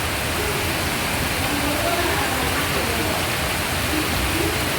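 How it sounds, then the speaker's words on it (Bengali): Heavy rain pours down in a dense, constant roar, loud and close, with no pauses in the downpour. "প্রচুর জোরে বৃষ্টি পড়ছে আওয়াজটাই শোনো প্রচুর জোরে বৃষ্টি পড়ছে"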